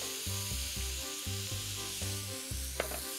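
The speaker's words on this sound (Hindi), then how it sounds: "अब हम इसमें डालेंगे बारीक कटे हुए लाल पीली और हरी शिमला मिर्च" Boneless chicken with finely chopped red, yellow and green bell peppers sizzles steadily in a pan, overlaid by a series of rhythmic, evenly spaced scraping strokes of stirring and a brief clink near the end.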